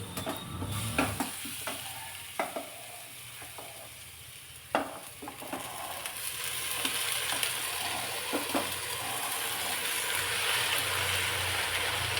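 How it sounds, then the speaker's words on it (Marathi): Pathri greens sautéing in oil for a traditional Maharashtrian vegetable dish, with a steady close sizzle under intermittent stirring clicks and scrapes from a spoon against the pan; no talk. "चांगले दोन तीन मिनटं तेलामध्ये व्यवस्थित भाजी परतून घ्यायची"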